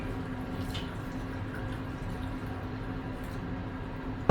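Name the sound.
pouring black and white film developing chemical into tank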